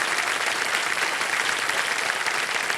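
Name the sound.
studio audience applauding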